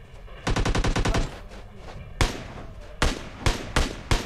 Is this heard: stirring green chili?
no